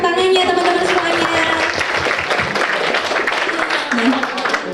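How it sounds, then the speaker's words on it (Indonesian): Audience applause at an indoor beauty class, a dense steady wash of many hands clapping that holds loud and even throughout, with a voice speaking over the start. "Boleh dong tepuk tangannya teman-teman semuanya."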